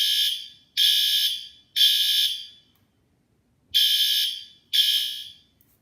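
A Wheelock L Series fire alarm horn sounds about 10 feet away in loud, shrill bursts, three in quick succession, a pause, then two more, with nothing else heard.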